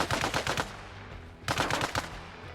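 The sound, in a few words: suppressed M45 SMG firing in Arma Reforger video game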